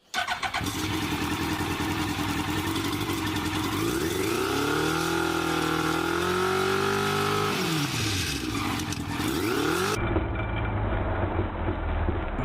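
A motorcycle engine with glass marbles inside its silencer idles loudly and steadily, rising in a long rev and settling back, with a rough rattling edge to the exhaust throughout.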